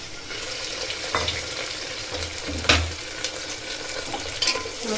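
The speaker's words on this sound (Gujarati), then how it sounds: "હવે આપણે શાકને વઘાર લઈએ." Mustard seeds and cumin crackling in hot oil as cluster beans and potatoes are tempered for a spiced Gujarati curry, a steady close sizzle with light stirring clatter and a few sharper pops.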